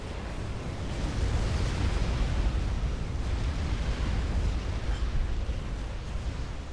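A nuclear missile detonates in the real-time strategy game Supreme Commander: Forged Alliance, a loud, sustained, broadband roaring rumble that swells after the first second and holds steady for several seconds without any voices.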